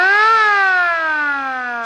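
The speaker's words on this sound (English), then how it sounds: "This is our siren" A siren mounted on an M38A1 Jeep sounds one loud, close tone that rises briefly, then winds slowly down in pitch over about two seconds, with no talking.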